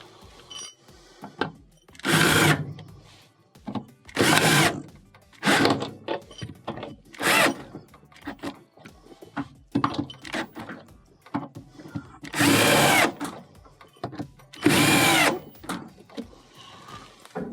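A power driver whirs in repeated short bursts, screwing stator screws into a Whirlpool washer during a tub bearing repair, each run loud and close with quiet clinks and handling noises between.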